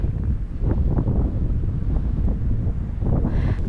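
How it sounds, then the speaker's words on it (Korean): Steady wind buffeting a microphone on a quiet roadside on Jeju island near a wind power plant, loud, continuous rumbling gusts with no voices. "바람 부는 소리만 들려요."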